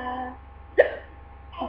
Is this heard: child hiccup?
yes